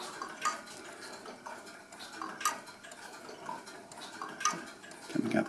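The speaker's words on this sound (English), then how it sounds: "Both these synchronomes actually sound different." Synchronome electric master clock mechanism ticking, soft metallic clicks spaced about every second or two, close and quiet against a faint room hum.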